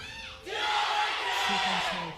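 Loud crowd cheering and roaring at a 2015 LCK Spring League of Legends esports match, SK Telecom T1 versus GE Tigers, swelling from a quiet start into a sustained, dense roar with some shouted voices mixed in.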